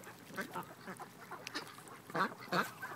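Ducks quacking in short, close calls while being fed bread, an irregular series of honking quacks that grows louder toward the end, with little else around them.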